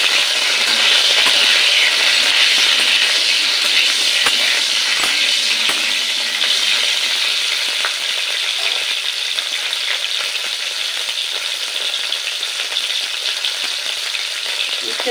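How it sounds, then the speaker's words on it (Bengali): Sliced bitter gourd and vegetables frying in a pan, stirred with a little salt and turmeric powder, giving a loud, continuous close-up sizzle with faint scraping stirs, steady throughout and no voices. "সামান্য পরিমাণে একটু লবণ আর একটু হলুদের গুঁড়ো দিয়ে আমি মিশিয়ে জাস্ট একটু নেড়ে নেব"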